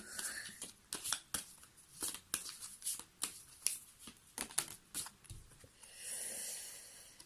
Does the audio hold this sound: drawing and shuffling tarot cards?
yes